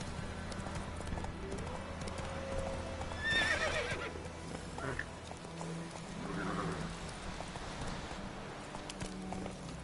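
A horse in The Witcher 3 gives a clear neigh while its hooves clip-clop steadily at a trot over a constant outdoor background.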